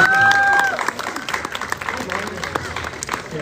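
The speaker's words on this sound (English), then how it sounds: "Come on out, give her a round of applause." A street-festival crowd at a magic show claps for a volunteer, a brief scattered burst of applause outdoors with a whistle-like tone at the start and voices mixed in.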